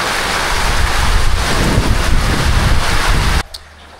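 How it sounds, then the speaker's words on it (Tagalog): Loud, roaring wind buffets the microphone continuously, then cuts off abruptly near the end, leaving a quiet background. "Grabe hangin."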